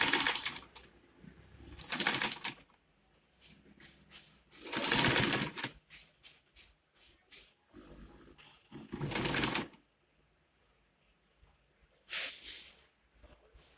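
A sewing machine stitching a face cap near the brim, heard as short separate bursts of whirring with quiet pauses between them and no talking.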